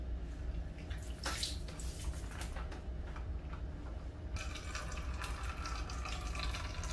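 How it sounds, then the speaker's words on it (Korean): Rusty water runs steadily through an Aquablue water purifier filter with pre-carbon, nano membrane and post-carbon stages, a continuous close rushing flow that brightens and hisses more in the last few seconds. "보시는 바와 같이 녹물이 타고 흘러 들어가서요"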